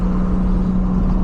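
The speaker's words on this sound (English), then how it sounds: "Into fourth gear, about 40 miles an hour. They're about 2500 RPMs." Steady engine drone from a 2001 Toyota MR2 Spyder cruising in fourth gear at about 40 mph and 2500 RPM, a constant low hum heard from inside the car with no talking.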